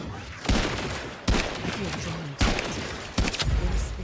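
A shotgun-like weapon in the shooter game The Amazing Eternals fires several heavy blasts at irregular intervals, loud and close, over continuous game noise.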